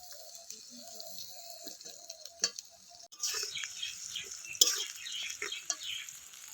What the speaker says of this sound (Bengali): এবার এর মধ্যে দিয়ে দেব কুচো করে রাখা টমেটো